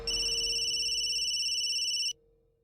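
A phone rings in a Crime Patrol TV crime drama scene. The electronic ringtone is loud, steady and high-pitched, runs for about two seconds, then cuts off into a quiet room.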